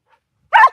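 A dog gives one short, sharp bark, close and clear, after a moment of near silence.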